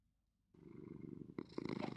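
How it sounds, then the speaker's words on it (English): A cat purrs in a video game, a soft close rumbling purr that begins after a short silence and grows a little louder toward the end. "Cat starts to purr."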